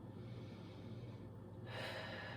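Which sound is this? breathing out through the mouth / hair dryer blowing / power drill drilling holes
breathing out through the mouth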